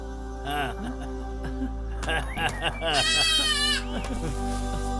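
Baby goat bleating in a few wavering cries, clear and fairly close, with a voice talking over parts of it in a dubbed Hindi film scene.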